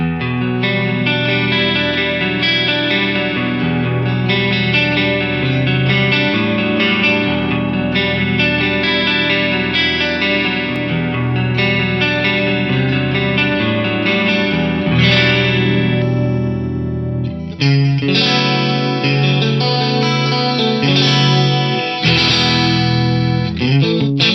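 A sustained, lush tone with a shimmering, slightly detuned doubling effect from an Eventide Eclipse dual pitch shift, one voice up 13 cents and one down 11 cents, played continuously with a brief break near the end.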